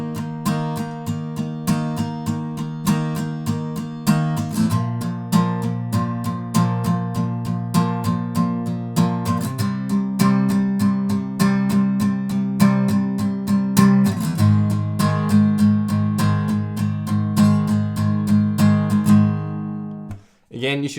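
Acoustic guitar strums the chorus of a song in a steady, even rhythm, chord changes roughly every five seconds, close and alone before it stops at the end.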